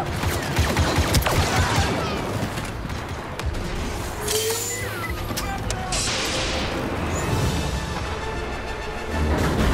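Blaster fire in a Star Wars video game battle between rebels and Imperial forces, with dense volleys of shots and booming blasts over a constant roar, while voices call out over the fighting.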